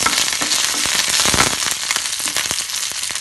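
Dried red chillies and urad dal sauté in hot oil in a pan for a tomato chutney, giving a loud, dense sizzle with sharp crackling pops throughout, close and continuous, with no talking.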